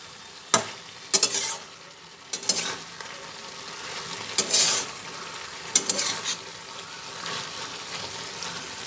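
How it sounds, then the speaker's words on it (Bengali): Drumstick flowers stirred in a frying pan, with sharp scraping strokes of a spoon at irregular intervals over a soft, steady sizzle of oil. "সজনে ফুলগুলো দিয়ে ভালোভাবে নাড়াচাড়া করে নিচ্ছি।"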